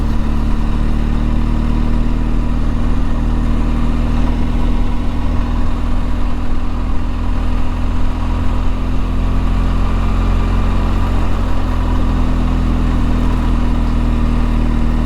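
BMW R1250 GSA motorcycle engine in Dynamic Pro riding mode, rolling along a graded gravel trail in Colorado, a steady low drone that stays even and loud throughout with no talk.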